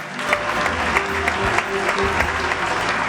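Audience on a TV music show breaks into sustained applause, a thick, even wash of clapping from a studio crowd with no pause throughout.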